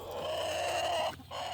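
Young chickens in a backyard flock, a steady run of close peeping and soft clucking that breaks off briefly near the end and then picks up again.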